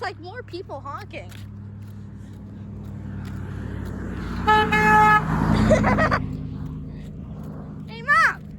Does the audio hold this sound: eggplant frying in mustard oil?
no